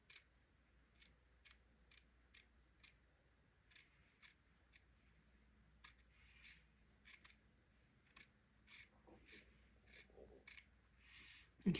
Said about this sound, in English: trim that excess batiste off